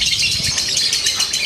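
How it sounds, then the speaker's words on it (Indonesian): Rapid, busy high-pitched bird chatter pours out continuously, a close songbird singing in bright trills over a faint low rumble. "Ini udah gacor ini burung satu nih."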